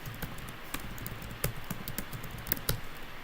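Fingers tapping quickly on a computer keyboard, entering names into a text box, a soft, irregular run of light key clicks with a few sharper strokes, quiet and close.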